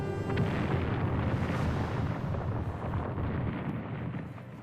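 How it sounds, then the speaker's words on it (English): A titanic explosion from a Total Annihilation: Kingdoms video game cutscene: a loud, deep, rumbling roar that fills the scene and slowly fades over several seconds. "in a titanic explosion."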